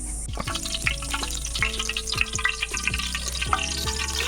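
Bay leaves and dried red chillies crackling in hot oil in a kadai before duck curry is cooked, a dense close sizzle with repeated sputtering pops throughout.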